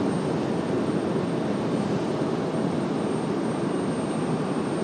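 American Airlines 174 Heavy, a widebody jet departing for London Heathrow, gives a steady loud roar of jet engines, continuous and unbroken, with no talk over it.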